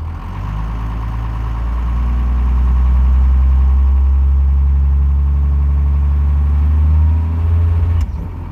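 Diesel engine fitted with an He351/S475 compound turbo setup, a loud steady low rumble that builds slightly as the turbos spool up under light throttle, with a brief dip and a sharp change near the end.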